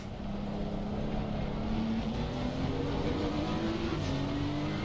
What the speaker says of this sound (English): Apologies for the loud engine noises. Engines are supposed to be loud